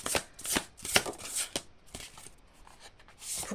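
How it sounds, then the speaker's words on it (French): Cards are drawn and shuffled by hand in a series of quick riffling and sliding bursts, close and fairly loud, easing into softer rustling toward the end, with no voices. "je vais tirer une autre carte"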